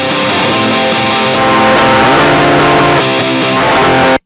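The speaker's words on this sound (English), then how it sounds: "Sounds horrible when it's bypassed because you're listening to the output of the actual amp head with no cab." Harsh, fizzy distorted electric guitar chords straight from an amp head with the cabinet simulation bypassed in Avid Pro Tools Eleven MKII, thin and buzzy with a raw, unfiltered edge, played loud and steady without any talking.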